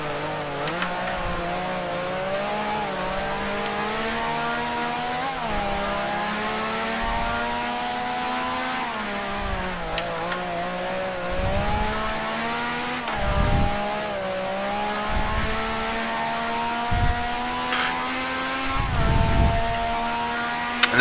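A 1965 BRM Formula One car in Grand Prix Legends, its engine droning and revving steadily with rising and falling pitch through gear changes, loud and continuous.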